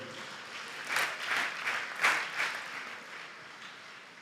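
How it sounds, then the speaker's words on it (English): Scattered applause from a school audience at a national quiz contest in Ghana comes in soft, uneven bursts with a few louder swells. It sounds distant and fairly quiet, with no talking over it. "Please give them a round of applause."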